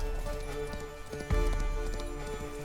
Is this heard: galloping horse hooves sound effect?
yes